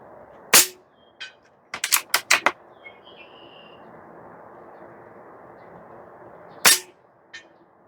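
Barra 250Z PCP airgun firing pellets outdoors at a target: sharp dry cracks, one alone, then a quick cluster of four or five shots, and another single shot near the end, each followed by faint distant clicks.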